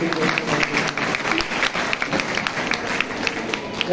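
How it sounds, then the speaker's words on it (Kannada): An audience at a Sharada Navaratri festival gathering applauds, a dense, steady wash of many hands clapping that carries on for several seconds without a break. "ಈ ಮೂಲಕ ಒಂದು ದೊಡ್ಡ ಚಪ್ಪಾಳೆ ಸರ್ಗೋಸ್ಕರ"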